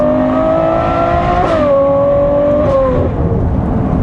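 An 800-plus horsepower car engine revs hard on slightly greasy roads through trees, a loud rising tonal howl that shifts gear and climbs again before easing off.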